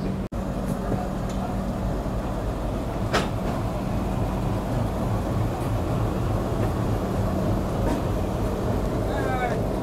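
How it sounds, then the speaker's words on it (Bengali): The 15722 Pahariya Express pulls away on the railway as a steady, low, droning rumble with faint humming tones, opening with a single sharp click, and muffled voices murmur faintly in the background. "ট্রেন তো ছেড়ে দিয়েছে"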